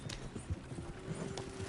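Horse hooves clop at a gallop in the Red Dead Redemption video game, a faint, muffled rhythmic beat under a quiet ambient background with a soft whinny-like tone.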